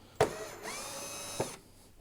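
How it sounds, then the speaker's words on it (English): Ryobi cordless power drill working on a 2008 Jeep Compass Sport marker light assembly, a short whirring run of about a second between two sharp clicks, close and alone. "Love this Ryobi drill."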